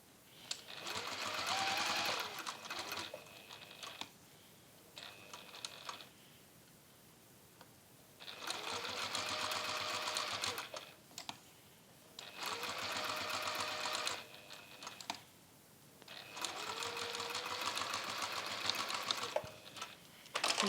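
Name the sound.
sewing machine stitching fabric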